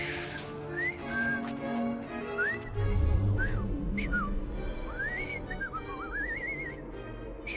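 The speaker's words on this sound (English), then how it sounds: "I've just learned to whistle." A character in the video game Assassin's Creed Syndicate whistles a series of rising and falling melodic phrases, fairly close, over a steady rumbling game ambience.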